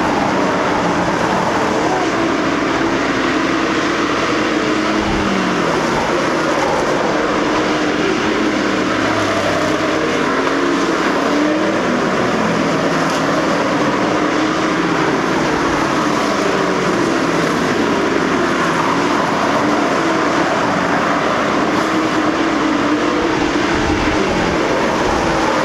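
Stock cars race around a dirt track during a 20-lap night feature, their engines making a continuous loud, dense roar with no break.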